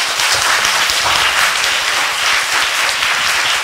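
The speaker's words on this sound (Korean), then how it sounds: "다시 한번 큰 박수 부탁드립니다" A live audience claps steadily in a dense, loud burst of applause at a Korean foreign ministry meeting with Koreans working in international organizations, closing a Q&A session. No voices rise above the clapping.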